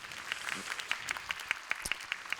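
Congregation clapping at a Korean church youth service, a steady round of applause with individual claps picking out a loose rhythm, moderately faint and heard alone without talk.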